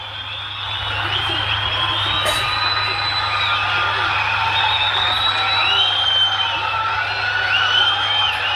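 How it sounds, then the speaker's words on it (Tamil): A hall audience at a TVK event applauds and cheers in a sustained, dense roar, with whistles and shrill whoops rising over the steady clapping and a low hum underneath. "ஒரு அரங்கம் நிறைந்த கைத்தட்டல் நமது குழந்தைகளுக்கும் வெற்றி தலைவருக்கும்"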